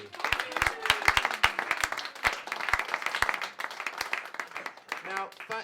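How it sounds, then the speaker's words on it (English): An audience bursts into applause after a close-up magic trick with a vanishing ring, a lively mix of sharp claps and murmuring voices that fades as a voice starts speaking at the end. "your applause are being recorded and sent to less fortunate artists"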